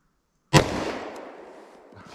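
A single sharp .45 Colt gunshot from a Smith & Wesson Governor revolver firing Buffalo Bore ammunition into MDF, a loud crack after silence followed by a decaying outdoor echo.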